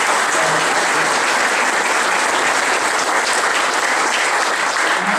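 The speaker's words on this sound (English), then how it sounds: "I think you need to give this a big round of applause." Steady, loud audience applause fills the hall at a Choctaw Nation welcome event, dense continuous clapping with no pauses for the full stretch.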